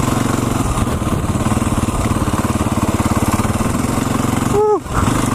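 A 2013 Can-Am DS 450 XMX ATV engine thrums with a rapid, pulsing single-cylinder beat during wheelies, loud and close, then briefly cuts and revs back up near the end.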